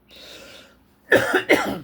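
Two sharp, close coughs in quick succession after a brief quiet rustle.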